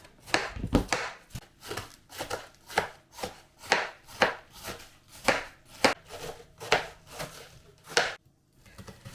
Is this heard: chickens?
no